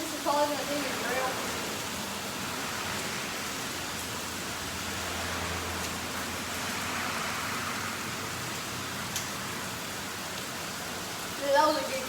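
Steady heavy rain hisses down on a fishing trip, a constant wash of noise throughout, with a brief clatter near the end.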